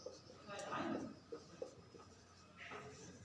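Marker or chalk writing on a board during a maths lesson, with short scratchy strokes at a moderate level, close by, and a teacher's voice speaking over parts of it.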